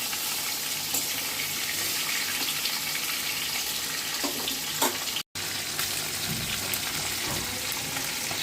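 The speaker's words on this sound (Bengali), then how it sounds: "বাকি মাছগুলোকেও ভেজে নিচ্ছি" Pieces of snakehead fish (shol) fry in hot oil, a steady bright sizzle and crackle that holds throughout, with a few faint clinks of a utensil, close by and continuous.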